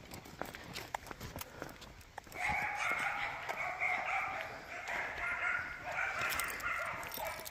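Several dogs bark excitedly, starting a couple of seconds in and continuing loudly and steadily in repeated volleys outdoors at Lake Shaftsbury, with footsteps and faint movement noise before the barking begins.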